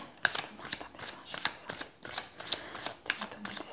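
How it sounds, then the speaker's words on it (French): Tarot cards are shuffled by hand in quick, crisp riffling bursts that repeat in a steady rhythm. The shuffling is close and fairly quiet. "je vais tirer la totalité des cartes"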